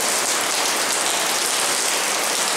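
Heavy rain pouring down during a downpour under a warning for heavy rain in Yamatotakada, a dense, loud, continuous hiss of falling water that stays steady from start to finish with no pauses.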